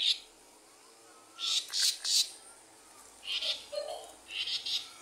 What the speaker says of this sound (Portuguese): Ah, é um sabiá.